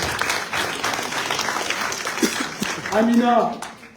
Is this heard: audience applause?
yes